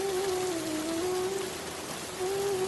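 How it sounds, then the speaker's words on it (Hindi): Heavy rain falls in a steady, dense wash of noise, loud and continuous, with a faint tonal hum running underneath and no talking. "और अचानक से बारिश तेज बरसने लगती है।"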